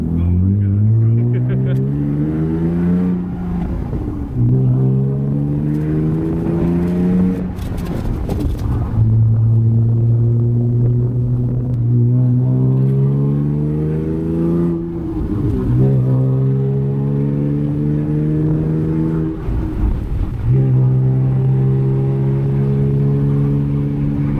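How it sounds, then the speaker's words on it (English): Drift car accelerating hard through repeated full-throttle pulls, its engine note climbing steadily in pitch, dropping at each gear change, then climbing again, loud and close the whole way. "as you guys can tell from some of those clips of doing some pulls, the car is running super good"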